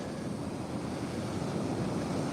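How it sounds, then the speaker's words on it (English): Ocean surf on the Oregon coast rolls in as a continuous loud broadband wash, heavy and close, with wind rumbling against the microphone and no voices. "Enjoy the waves and the sound of the surf."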